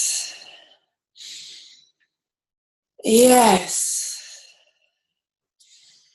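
Deep, slow breathing during a tantra exercise: two soft airy breaths, then a loud, close, voiced inhale and exhale, followed by a faint breath, with a brief spoken word in between.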